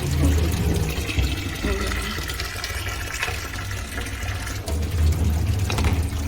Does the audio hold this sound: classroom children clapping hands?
no